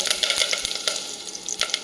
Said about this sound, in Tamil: எண்ணெய் சூடாகையும் வெங்காயம் போடணும்